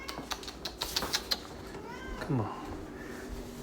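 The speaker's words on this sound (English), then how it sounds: "I guess the cat is making a noise" A house cat meows once, a short descending cry rising out of light tapping and clatter, close and moderately loud indoors.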